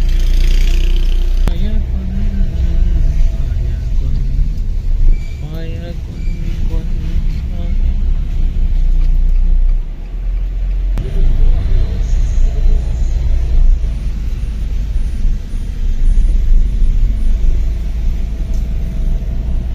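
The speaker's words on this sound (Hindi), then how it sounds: "ये गाड़ी आ रही है ना ऐसे ही बिल्कुल" A car approaches along a rain-wet road, its steady, loud rumble filling the scene while a voice talks over it.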